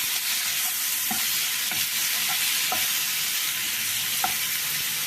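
Masala for a fish curry fries in a pan with a dense, steady sizzle, near and continuous, and a few soft scrapes and taps from the stirring spoon cut through it.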